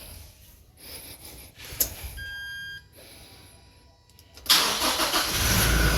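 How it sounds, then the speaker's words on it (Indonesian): Toyota Innova engine cranking and firing up after a power steering fluid flush, a loud broadband roar catching near the end and settling into a steady run, with brief beeps and faint background noise before. "kita starter lagi ya"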